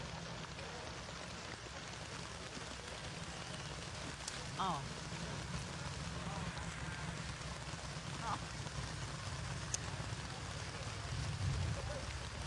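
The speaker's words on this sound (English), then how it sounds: "Mike's not too concerned about the rain" Rain hisses steadily at a classic car parade featuring Auburn, Cord and Duesenberg cars, under the low rumble of a vehicle in motion, with a few brief knocks and squeaks.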